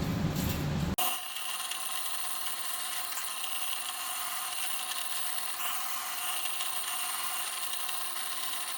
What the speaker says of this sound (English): I'm just going to drill a small hole all the way through